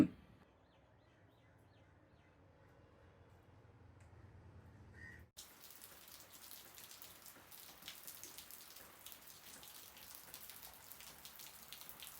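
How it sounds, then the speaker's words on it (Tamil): Steady monsoon-like rain falls on a morning at home, a soft continuous patter that starts up partway through and carries on faintly and evenly to the end. "பெய்யற மழைய பார்த்தா ஏதோ பருவ மழை பெஞ்ச மாதிரி தொடர்ந்து பெய்யுது."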